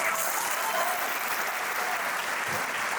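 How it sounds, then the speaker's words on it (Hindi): A large seated audience at an offline meetup for banking, SSC and railway exam aspirants in Muzaffarpur applauds, a steady, dense wash of clapping that holds evenly throughout without pause. "और एक बार खुद के लिए ताली हो जाए प्लीज।"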